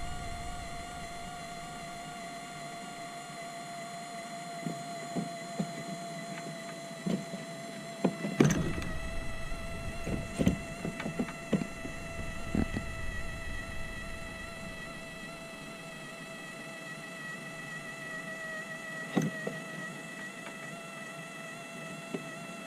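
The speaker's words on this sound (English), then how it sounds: "that's the motor going down" Electric motor mount on a DIY kayak trolling setup whirring as it lowers the motor, a steady mechanical hum with scattered clicks and knocks, a louder clunk midway, heard alone without talk.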